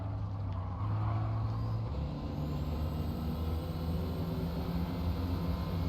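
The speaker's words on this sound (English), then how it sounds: "You hear the noise of the asphalt underneath the car wheels" Racing cars in Gran Turismo 7 roar past on an asphalt circuit, a steady loud blend of engine drone and tyre noise on tarmac with a low rumbling bed throughout and no talk.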